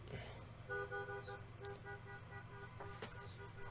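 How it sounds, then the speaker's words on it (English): A car horn toots in a long steady blast on a road, heard from inside a vehicle over low engine rumble, with a couple of faint clicks. "What you honking for?"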